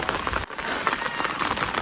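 Steady light rain patters on a surface, a soft continuous hiss with scattered drops, close by and without voices.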